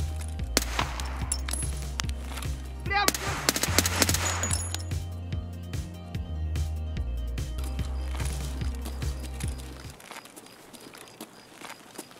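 A gunfight in the video game Escape from Tarkov, with loud bursts of rapid automatic fire and single sharp shots cracking close by over about ten seconds before cutting to quiet.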